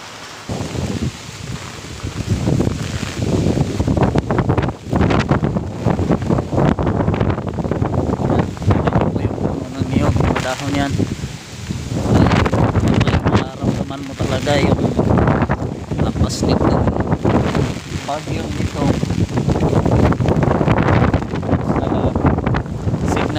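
Strong typhoon Quinta winds buffet the microphone in Cavite, Philippines, a steady loud roar with rustling gusts throughout, while a person speaks over it.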